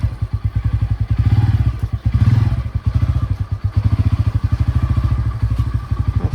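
A motorbike engine idles close and loud with a rapid, even thumping beat that swells and dips in short waves as the bike is moved indoors at a hillside village near Kalimpong.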